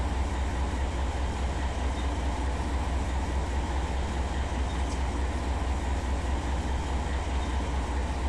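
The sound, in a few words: freight grain train rolling in Run 8 Train Simulator video game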